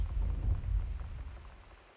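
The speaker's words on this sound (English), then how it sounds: "Fucking thunderstorm." Rain and a low rumble of thunder from a thunderstorm inside a house in Gone Home, a deep roll that swells then slowly fades under steady rainfall, with no talking.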